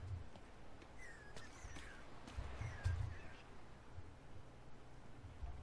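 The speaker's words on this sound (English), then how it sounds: "It's a bird over there. I don't want to hit the bird." A bird calls in the video game Atlas, a few faint caws and chirps over a low, steady ambient bed with occasional soft thumps.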